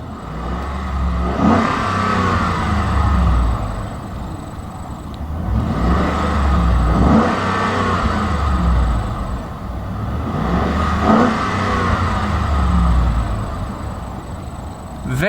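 A 2011 Ford F150 Lariat engine revs up three times toward its rev limiter near 4,000 RPM, each rise and fall close and loud over idle.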